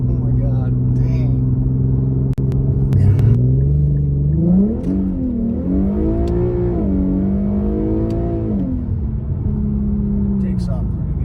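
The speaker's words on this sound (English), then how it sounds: "Takes off pretty good. For a 6. Yeah. Yeah, she accelerates pretty damn good." An Infiniti Q50 with a six-cylinder engine accelerates from inside the car, its engine note rising and climbing through gears as a steady loud rumble, with people talking over it.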